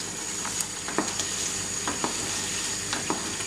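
Boiling hawthorn jam with lemon salt added bubbles and sizzles steadily in a pot while a spoon stirs it, with soft scraping clicks every half second or so, close and fairly quiet.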